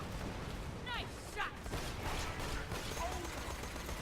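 Grenades burst in a Borderlands 2 co-op firefight, a couple of sharp blasts amid gunfire and game effects, with players talking over the action.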